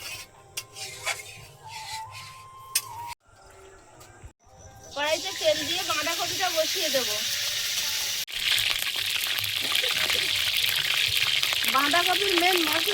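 Ginger, bay leaves and panch phoron frying in oil for a cabbage dish, a loud sizzle that starts after some kitchen clatter and continues steadily, with a voice talking over it.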